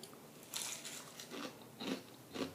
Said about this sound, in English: It's crunchy because it's baked.